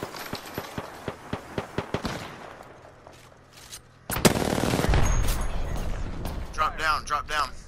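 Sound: gunfire in the video game Apex Legends

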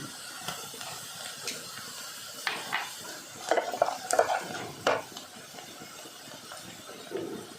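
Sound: stirring frying onions with salt in a pan

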